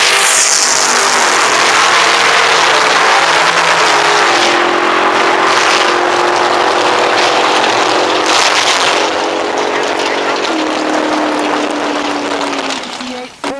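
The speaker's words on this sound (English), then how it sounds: "Marty Van Huel out of East Moline, Illinois, in the 86 IROC Camaro" A 1986 IROC Camaro and another car launch down a drag strip in a bracket race, loud racing engines roaring and revving close by. The sound then fades slightly as they pull away, ending in a short final drop.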